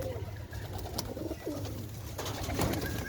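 Pigeons let loose near a pigeon seller's loft in Shantipur, Nadia, cooing in low soft bursts with faint rustling over a steady outdoor background, close and moderately loud.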